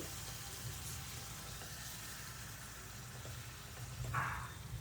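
Mushrooms and masala sauté undisturbed in a hot pan, giving a steady, moderate sizzle that swells briefly near the end, with no talking.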